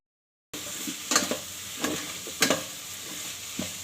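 Vegetables fry in a rice cooker under a soft, constant sizzle, while a utensil stirs and scrapes them in several sharp strokes spaced about a second apart, close by. Silence comes first, then the sizzle begins.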